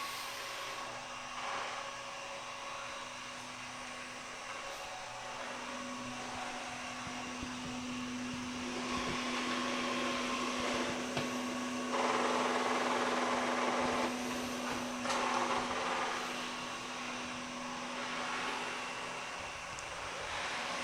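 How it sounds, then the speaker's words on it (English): A Samsung Powerbot R7040 robot vacuum runs indoors with a steady, fairly loud whirring rush over a constant low motor hum, lasting about twenty seconds with no talking. "And so usually this vac is going to basically be going back and forth."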